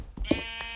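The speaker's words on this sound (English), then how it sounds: "I want my sheep to be fed because I like my sheep." Sheep bleating in Minecraft: two or three short, separate bleats with a sustained high tone underneath, close and fairly loud, no talk.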